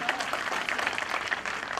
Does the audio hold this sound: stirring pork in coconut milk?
no